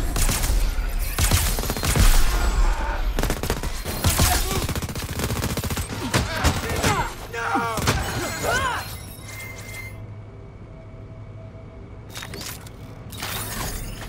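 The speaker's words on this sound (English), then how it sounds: "This machine pistol is all about filling the air with lead at close range." A machine pistol fires in Crackdown 3: loud close rapid bursts of automatic gunfire with shattering and crashing impacts, easing into quieter background rumble and faint shots later.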